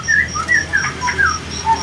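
Clear, whistled phrases of a white-rumped shama repeat in quick succession, bright and fairly close, with no talking, at a songbird shop.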